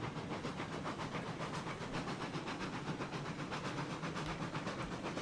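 Faint, steady rumble and hiss of a train rolling along the line in the RailRoads Online video game, continuous and even with a softly pulsing rhythm.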